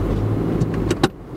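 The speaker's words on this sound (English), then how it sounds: "I put my foot on the throttle" A Tata Zest in manual mode pulls away from standstill in first gear, its low engine hum steady and close, with a brief rise in revs near the end of a very short stretch.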